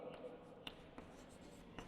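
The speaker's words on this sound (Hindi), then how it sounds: "जैसे मैं लिखता हूं" Chalk or marker strokes on a classroom board during a Hindi grammar lesson, a series of soft scratchy taps and scrapes spaced unevenly, faint and close, with a quiet room tone behind.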